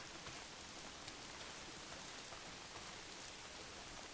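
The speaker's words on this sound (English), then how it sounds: "If it's not the freaks, it's the goddamn rain." Steady rain pours throughout a scene in the video game Days Gone, a dense, even hiss of drops hitting surfaces with no breaks, heard alone.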